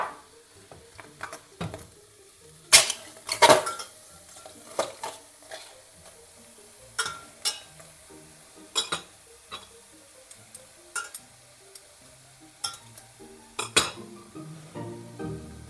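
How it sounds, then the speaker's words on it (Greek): Cuttlefish sautéing in a pan, a soft low sizzle broken by scattered clinks and scrapes of a utensil against the pan, with a couple of sharper knocks early on and no talking. "Τη τσιγαρίζουμε λίγο ακόμα"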